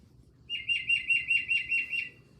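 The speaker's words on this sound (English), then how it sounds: "Tufted titmouse." A tufted titmouse sings a clear, loud repeated phrase of about six quick whistled notes in steady rhythm, close and alone against a quiet background.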